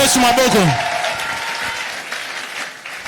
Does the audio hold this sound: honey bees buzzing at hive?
no